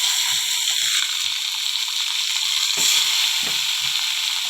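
Vegetable curry fries in a pan in a home kitchen, a loud, continuous close sizzle and hiss with faint occasional stirring knocks underneath.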